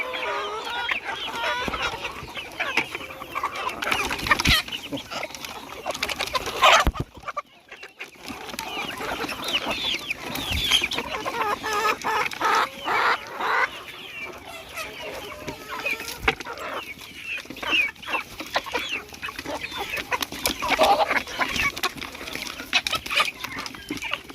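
Chickens being fed cluck and squawk in a busy, overlapping chorus up close, with scattered sharper calls and rustling, one brief quieter gap midway, and some background voices.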